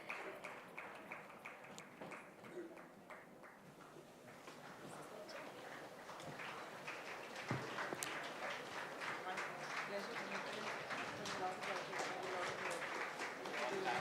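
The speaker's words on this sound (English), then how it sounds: "a loud round of applause as we have our speakers" A conference audience at ThinkEdu 2025 applauds as speakers take the stage. The clapping starts faint and distant, then grows into a denser, steadier round.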